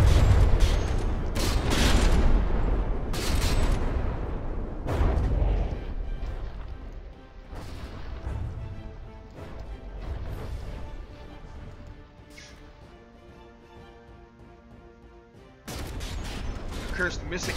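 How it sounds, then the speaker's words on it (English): Naval battle in the game From the Depths: heavy ship cannons fire and shells strike in sharp booming bursts, some close and loud, others fainter, spaced irregularly over a rumbling background, with commentary running throughout. "Jani taking a hit straight to the turret face there and not caring."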